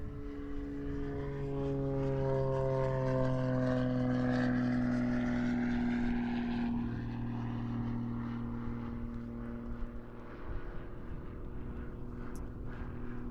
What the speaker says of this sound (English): So this is the two-seat extra 330LX, lots of power, lots of maneuverability